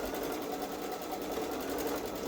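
Babylock Solaris Vision sewing machine stitching an edge-to-edge quilting pattern on a Halloween gnome quilt, a steady fast needle whir running continuously at close range with no speech.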